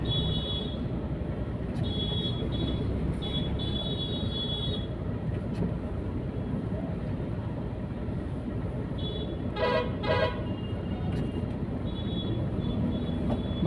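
Jammed road traffic with cars, tempos and a tractor: continuous engine rumble underneath repeated short horn toots and honks, some in quick bursts, from nearby and farther vehicles.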